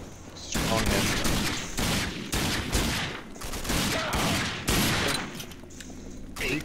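Rapid bursts of gunfire fill a firefight against enemies in the shooter game RAGE on Xbox One X, dense overlapping shots and automatic volleys running nearly nonstop with brief gaps, loud and close.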